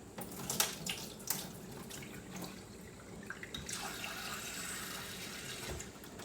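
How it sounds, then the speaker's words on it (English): Running tap water splashes over dried black beans in a kitchen sink, a steady rushing hiss with a few clinks and rattles near the start, fairly quiet and with no talking. "I'm just going to go ahead and give these a quick little rinse."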